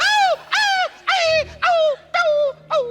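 A voice on a comedy show mimics a yelping dog in six short, high, whining yelps at a steady rhythm, loud and close with nothing else over them.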